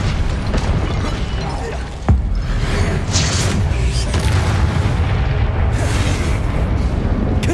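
Spell explosions from the Confringo fire spell in the video game Hogwarts Legacy, a sharp blast followed by rumbling booms and crackling bursts that continue densely under game noise.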